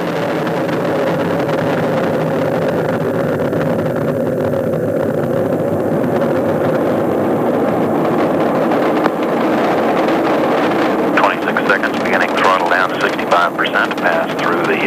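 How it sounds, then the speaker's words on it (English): Loud, continuous roar of Space Shuttle Atlantis lifting off on the STS-51J mission, a dense broadband rumble sustained for the whole stretch, with a commentator's voice running over it. "Liftoff of Atlantis."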